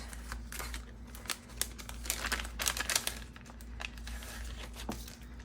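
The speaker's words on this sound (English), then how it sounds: "I think I just want a crinkly, crackly piece." Crinkly, crackly paper handled for a Halloween junk journal, quiet close crackling and rustling in irregular bursts over a steady low background hum.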